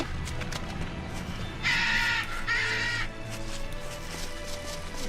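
Two loud, harsh crow caws from Tales of Berseria sound close together in the middle, over a steady backdrop of game ambience, with no voices.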